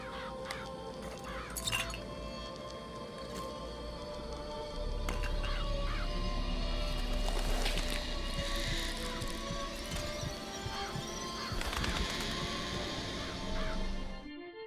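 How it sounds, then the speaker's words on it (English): Murderous crows summoned from a vigor in BioShock Infinite, with caws and flapping bursts scattered over a busy game soundscape, some cries sharp and near, others fainter, with a loud rumbling stretch midway. "Press to summon murderous crows."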